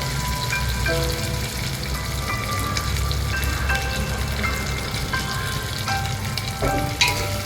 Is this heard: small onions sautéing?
yes